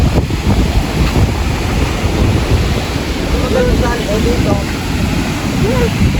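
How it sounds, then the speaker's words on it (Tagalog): Strong sea waves break along a beach by moored fishing boats, a constant heavy roar of surf mixed with gusty wind buffeting the microphone. "Wala nga at malakas ang alon"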